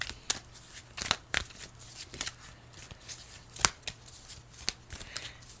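Someone shuffles a Healing with the Angels tarot deck close by, producing a run of crisp riffling bursts and soft card slaps at an uneven rhythm over a quiet background.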